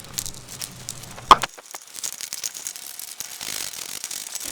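A ratchet wrench works the transfer case pan bolts on an IH Scout, giving quick runs of close, crisp clicking, with a sharp clack early on followed by repeated short ratcheting bursts.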